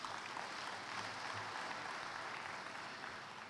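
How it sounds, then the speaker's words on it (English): Sustained audience applause at a professional conference session, a steady even wash of many hands clapping together without pause, heard at a moderate distance in a large hall. "Please, can we give them a round of applause?"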